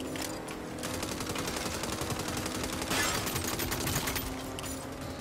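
Sustained rapid gunfire from a Saints Row video game battle, a dense continuous barrage of automatic shots that swells louder partway through, with no talking.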